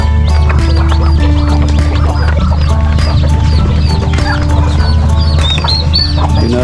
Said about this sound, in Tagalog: Tinatawag nilang manok na cobra. Walang balahibo sa lig.